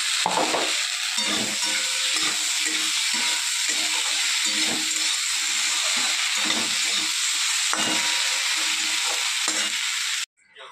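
Fried potatoes go into hot oil for dal, giving a steady, loud sizzle and frying crackle with stirring scrapes. It runs continuously at close range and stops abruptly near the end.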